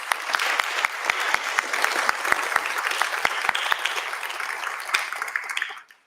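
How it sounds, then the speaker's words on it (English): Sustained crowd applause at an awards ceremony for young people, dense and steady with sharp individual claps standing out, running for several seconds before fading out at the end. "Let's give them all a big round of applause"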